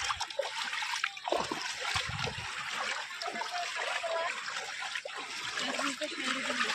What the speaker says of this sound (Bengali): এই যে দেখেন পুরা রাস্তার উপর দিয়ে জল যাচ্ছে, পুরা ওভারফ্লো, পুরা মাঠটাই।